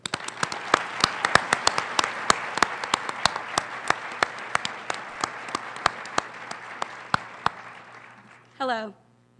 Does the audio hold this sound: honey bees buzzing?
no